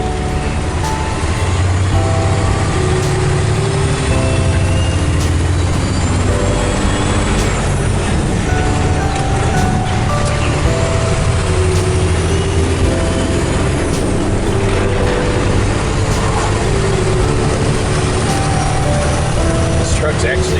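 A large truck hauling an RV drives on steadily, its engine droning loud and close throughout with a brief air-brake hiss, while people chat inside the cab.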